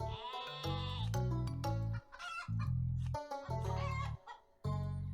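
Chickens in the video game Terracards cluck and crow in overlapping, tonal synthesized-sounding calls, a rooster's crow among short clucks, continuous and clear with no talking.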